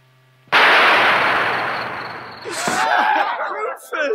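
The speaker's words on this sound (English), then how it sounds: "The girl sees him and, appropriately, immediately reaches for a gun and shoots Captain Voyeur." A single sharp, loud gunshot bursts out in a 1969 John Carpenter short film, decaying over about two seconds before a voice speaks.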